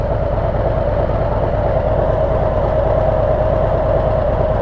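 A motorcycle engine fitted with a FuelMoto exhaust insert drones steadily at constant speed on a ride, loud and close with a sustained hum and no pauses.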